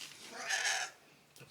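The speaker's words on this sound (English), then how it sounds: "That horrible sound you are probably hearing is my cat." A cat lets out a loud, drawn-out, strained meow indoors in a kitchen, a single wailing cry lasting about half a second with a faint short call after it.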